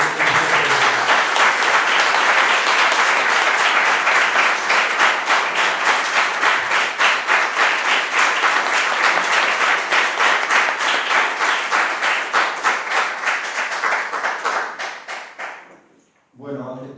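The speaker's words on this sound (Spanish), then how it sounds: "pido un aplauso para Arnaud" Sustained applause from a lecture audience welcoming Arnaud, dense and steady for about fifteen seconds, then thinning into scattered claps and fading out just before a voice begins.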